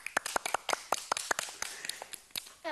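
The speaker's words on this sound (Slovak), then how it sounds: "Veľký potlesk." A small audience at a children's music event claps in scattered, irregular bursts, fairly quiet, with sharp individual hand claps rather than a dense roar.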